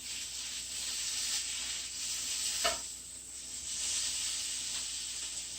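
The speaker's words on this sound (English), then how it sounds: "just going to turn my omelet over once because I like it well done" A mushroom and spinach omelet fries in a pan with a steady, close sizzle that swells and eases, broken once by a brief clack from turning it over.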